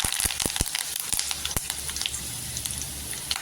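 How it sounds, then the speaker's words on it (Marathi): Mustard seeds and curry leaves splutter in hot oil, with sharp popping crackles over a continuous close sizzle that are dense at first and then thin out. "राई छान अशी तरतरली पाहिजे. राई तरतरली की इथे कढीपत्ता टाकायचा."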